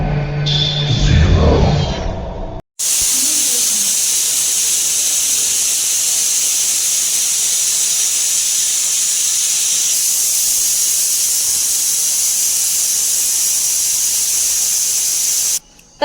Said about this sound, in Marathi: आता याच्या 2 शिट्ट्या काढून घेऊ कुकरच्या आपण